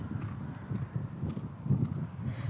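Horse hooves clip-clop on the ground at a racing stable, a continuous uneven patter of low thuds with faint background noise.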